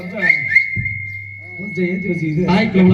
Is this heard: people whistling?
yes